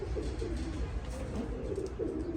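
An adult Teddy pigeon coos softly and repeatedly, low rolling calls rising and falling close by, with no talking.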